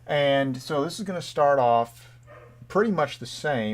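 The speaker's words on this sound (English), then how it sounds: "Excuse the dog downstairs." A dog barks downstairs in a house, several barks sounding under a man's close, steady talking.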